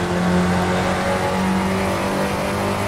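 A Ford Spec Racer engine in the iRacing sim, over-revved in second gear, holds a loud, strained, near-constant high-rpm drone with steady harmonic tones for a few seconds, with no talk over it.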